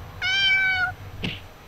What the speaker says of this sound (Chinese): 小猫咪的叫声串联起来了